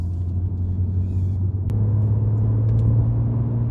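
A BMW M140i cruises at steady speed, its engine and road rumble droning low and constant from inside the cabin, with a slight rise in tone partway through.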